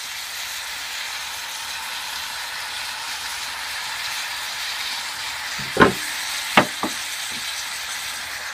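Canned tomatoes and their juice tipped into a hot pan for tomato and sweet potato soup, giving a few short splashy plops over a steady background sizzle, with no talking.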